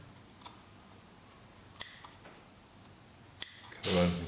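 Scissors cutting open a fabric double welt pocket: a few crisp, close snips spaced well apart, then a brief burst of rustling fabric at the end.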